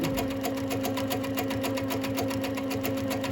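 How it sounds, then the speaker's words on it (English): A sewing machine stitches free-motion quilting on a star design, a fast, steady, evenly pulsing run of needle strokes that stays close and loud the whole time. "I'm just stitching away with whatever my heart wants to do."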